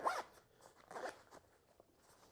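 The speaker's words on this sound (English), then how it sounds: "these nice double zippers here. Unzip that, has a really smooth action." Double zipper on a Maxpedition Keystone Versipack pocket pulled open with a smooth action: one quick, close rasp at the start, then lighter zipping strokes and faint fabric rustle.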